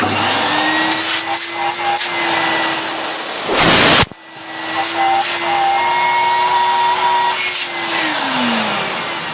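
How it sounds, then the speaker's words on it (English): An old Electrolux Z2000 vacuum cleaner with no speed control whirs loudly nearby with a steady high-pitched motor whine, briefly surging into a roaring rush of air midway before settling back. "Obviously there's no speed control, there's nothing, it is literally just a vacuum cleaner."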